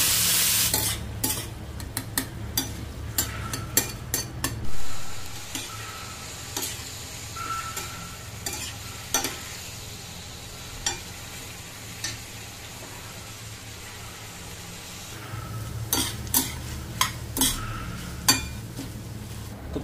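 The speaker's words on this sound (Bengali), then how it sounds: "এবার আমি চিংড়ি মাছটাকে হালকা করে ভেজে নেবো" Prawns fry in hot oil in a kadai, a steady close sizzle broken by scraping stirs and clinks of a utensil against the pan, with no talk.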